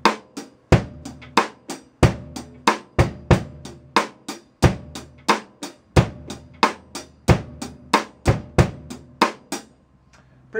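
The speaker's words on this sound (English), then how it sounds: "we'll just play an eighth note groove where we're going to play 2 and 4 on the cross stick." Steady eighth-note drum groove with a sharp cross-stick click landing on beats 2 and 4, close and loud, played alone for about ten seconds before stopping.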